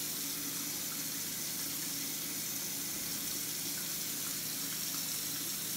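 Tap water runs steadily into a bathroom sink during a shave, a continuous even hiss and splash with no talking over it.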